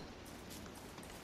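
Rain falling in the video game Don't Starve, a soft, steady hiss of drops that stays faint and even throughout with no voices.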